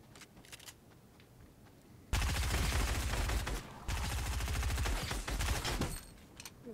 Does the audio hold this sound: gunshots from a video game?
yes